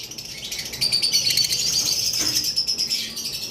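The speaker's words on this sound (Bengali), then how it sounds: "এইখানে একটা পেয়ার গ্রিন ফিশার লাভবার্ড রয়েছে" A pair of green Fischer's lovebirds kept as breeding birds chirps close by in bright, rapid, high tweets, a busy chatter that rises to a sustained trill before it eases off.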